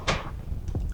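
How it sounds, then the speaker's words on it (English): A soft-closing kitchen cabinet drawer in a rural home is pushed shut, giving a short, close muffled thud followed a moment later by a second softer knock. "Again, soft closing, you pull, you push, it goes."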